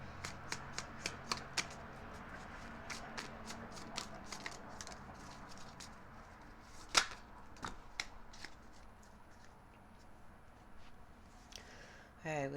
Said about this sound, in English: We'll go ahead and get the cards moved out here.